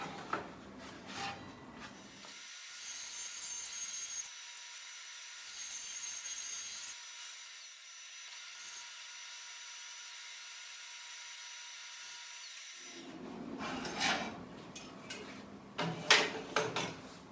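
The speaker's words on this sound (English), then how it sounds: "rip this piece down and get the pieces that I want out of here" A saw rips a wooden board lengthwise for a wood kiln frame, steady rasping strokes in the middle with scraping and handling noises before and after.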